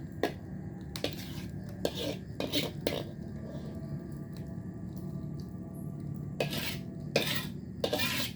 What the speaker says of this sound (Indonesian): Saya sajikan ke wadah.